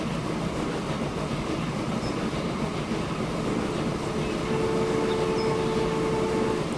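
Trains released onto the line in the video game Transport Fever 2 roll steadily with a deep rumble and light rail clatter. A thin squealing tone enters in the second half, and there is no talking.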